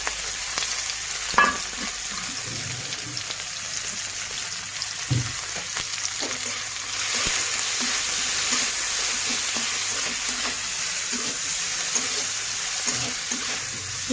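Onions frying in a pan, a steady broadband sizzle throughout with occasional stirring clatter and soft knocks, no talk.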